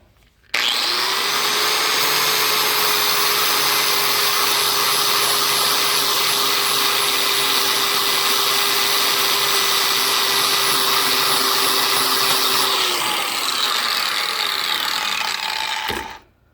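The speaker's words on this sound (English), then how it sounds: "what I've got here is an angle grinder with a sanding pad, sanding disc, flap wheel" An angle grinder with a sanding flap disc whines loudly and steadily for about fifteen seconds, grinding against metal, then winds down and stops.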